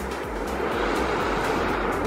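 Sea waves breaking on a beach, a continuous loud broadband roar of surf without any talking.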